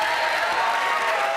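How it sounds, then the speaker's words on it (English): A studio audience on a BBC National Lottery quiz show cheers and applauds a contestant, a dense, steady wash of clapping and crowd noise that holds evenly throughout. "You've got the crowd cheering you"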